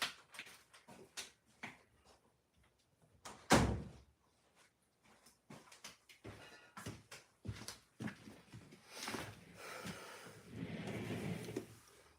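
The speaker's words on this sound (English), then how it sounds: "Let me go shut the door" An indoor door is shut once with a loud, sharp thud, set among household shuffling and handling noises in a quiet room, followed by rustling and movement with no talk.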